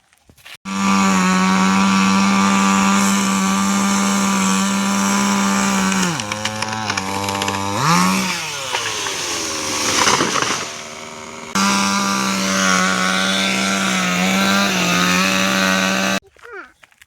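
A chainsaw cuts through wood outdoors, its engine droning steadily and loud, dipping in pitch as it bites into the log and revving in between, running for most of the stretch before cutting off.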